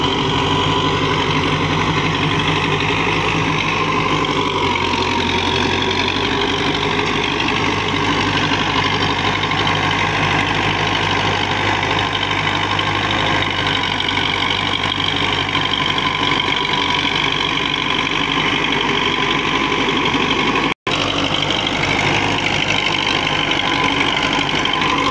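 An old-model Belarus MTZ 50 tractor runs with a 54-cutter rotavator through dry soil, a steady, loud diesel drone and churning rumble that continues throughout with no talk.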